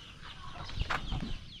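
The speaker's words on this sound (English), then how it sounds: "The two chickens have a fight." Two chickens fighting on a farm cluck and squawk in short agitated bursts, fairly close, with a sharp flurry near the end.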